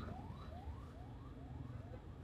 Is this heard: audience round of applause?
no